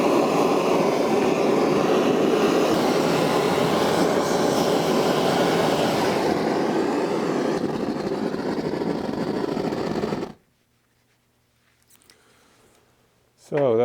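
A gas torch roars steadily and loudly while heating the wheels of a 1-inch scale gas mechanical model locomotive under repair, then cuts out abruptly, leaving near silence before a brief burst of sound returns.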